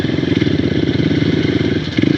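A motorcycle rides along a seaside road on the way to an island camp, its engine a steady, loud, close rumble with a slight rise at the end and no voices.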